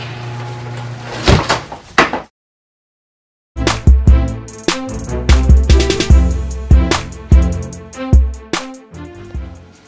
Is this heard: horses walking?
no